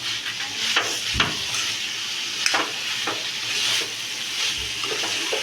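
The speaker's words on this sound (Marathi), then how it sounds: "त्यात आपण छान असं पहिलं परतून घ्यायचं" Young colocasia leaves sautéed with dried shrimp in a pan, a continuous close sizzle punctuated by several sharp spatula strikes and scrapes, with no voices.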